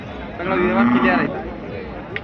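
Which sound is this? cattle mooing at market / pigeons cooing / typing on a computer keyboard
cattle mooing at market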